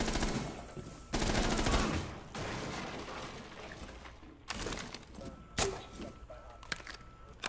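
Gunfire in the tactical shooter Rainbow Six Siege, a rapid machine-gun burst followed by scattered single shots and impacts, moderately loud amid game ambience, no speech.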